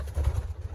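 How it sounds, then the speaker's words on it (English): Pigeons cooing in a loft of young racing birds, a soft low throaty coo, brief and faint. "all these other birds that I got from my buddy Tim"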